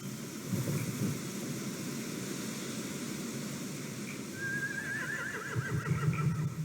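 Horses in The Walking Dead video game whinny against a steady background rumble, one shrill neigh rising and trembling near the end.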